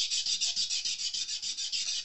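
An ultrafine Scotch-Brite pad is scrubbed across the frets of a Taylor 314ce acoustic guitar, giving close, even back-and-forth rasping strokes about four per second with no talking.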